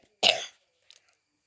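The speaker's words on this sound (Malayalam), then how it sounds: "ചുമയാണ് ഗൈസ്, ചുമ" One short, sharp cough sounds close by, followed by a faint little throat noise, with silence on either side.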